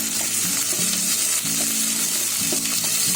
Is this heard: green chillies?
yes